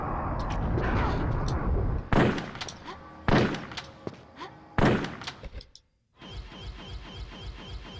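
Heavy gunshots from Tomb Raider Chronicles boom out in several loud, spaced bursts, each trailing a short echo, with a quieter mechanical clicking pattern near the end after a brief silence.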